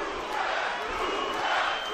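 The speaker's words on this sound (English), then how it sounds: "Crowd chants, Lucas, Lucas, Lucas." A boxing arena crowd chants for Lucas Matthysse during the sixth round of his scheduled twelve-round fight against Viktor Postol, forming a loud, steady roar of many voices that fills the hall without a break.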